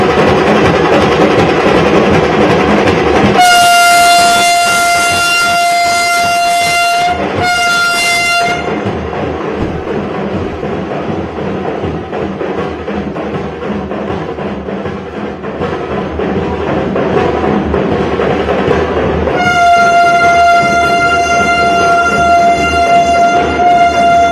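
A Vande Bharat express train runs past with loud, continuous rumble and rattle, and a sustained electric horn sounds twice near the start and again near the end, with no talk.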